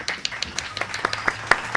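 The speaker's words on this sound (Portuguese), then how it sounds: "Palmas para ela!" A small audience claps scattered, uneven beats in a room during a Portuguese Q&A, with a few sharper claps standing out over a faint murmur.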